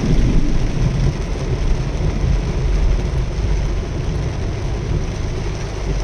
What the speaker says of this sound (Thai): หมู่บ้านช้างฝนตกหนักเลยค่ะ ฝนตกหนักเลยนะคะ